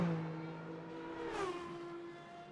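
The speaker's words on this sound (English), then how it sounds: "The V12 screaming as it makes its way down this ever so long straights." A V12 hypercar engine in the racing game Le Mans Ultimate at Bahrain International Circuit screams at high revs down a long straight, a sustained tonal whine that shifts pitch as it upshifts.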